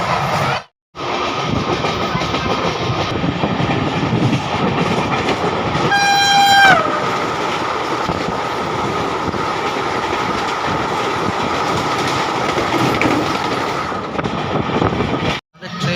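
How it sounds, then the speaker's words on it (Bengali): The Vande Bharat Express, running from Howrah to NJP, rushes past at close range with a loud, continuous rumble of wheels on rails and a brief two-tone horn blast partway through. "এখন চলে আসছে two two three six one Howrah থেকে এনজিপিগামী বন্দে ভারত এক্সপ্রেস"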